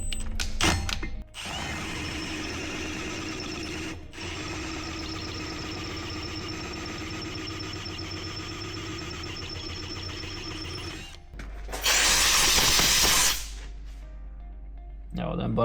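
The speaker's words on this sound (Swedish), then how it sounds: "Det är inte så bara att borra genom slagg." Pillar drill with a freshly sharpened bit grinding into slag, a loud steady mechanical whine and rattling drone that runs on for many seconds, briefly cut out, then a harsh bright burst near the end.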